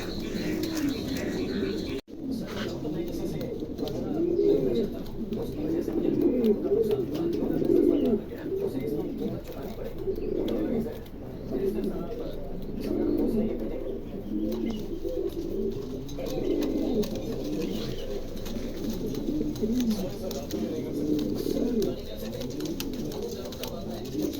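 A pair of very large Pomeranian pouter pigeons coo in steady, overlapping low rumbles that continue throughout, close by and fairly loud, with a brief break near the start.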